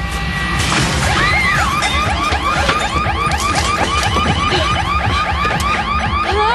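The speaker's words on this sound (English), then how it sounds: "He just smashed in my door." A home security alarm shrieks in rapid repeating electronic sweeps after a door is smashed in, with loud crashing and banging impacts near the start under the alarm, which keeps wailing steadily throughout.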